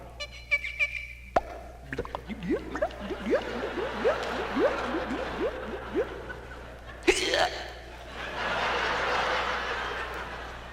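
A voice imitates a cork popping followed by a run of rising gurgling glugs, like liquid pouring from a bottle, then a breathy burst.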